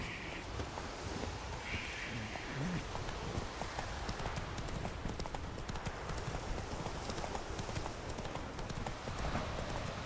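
Steady clip-clop of a horse's hooves trotting in the Witcher 3 video game, an even rhythmic beat with faint ambient rustle and wind behind it.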